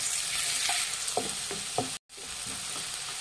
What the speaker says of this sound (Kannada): ಈರುಳ್ಳಿ ಹಾಕ್ಕೊತಾ ಇದ್ದೀನಿ. ಫ್ರೆಂಡ್ಸ್, ಈರುಳ್ಳಿ ಫ್ರೈ ಮಾಡಿ.